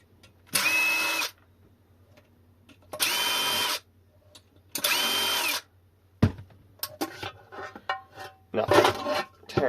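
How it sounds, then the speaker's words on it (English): A power drill backs screws out of a 36V 21Ah Reention Dorado e-bike battery case in three loud, steady whirring bursts, followed by lighter clattering and clicking of the screws and case parts. "Get those screws out of that."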